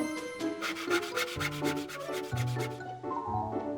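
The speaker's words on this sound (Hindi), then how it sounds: "मॉर्फल, लकड़ी काटने की आरी बन जाओ।" Cartoon wood saw cutting through planks in a children's animated scene: a rapid, rhythmic rasping of strokes over a bright musical score, steady and close, with no speech.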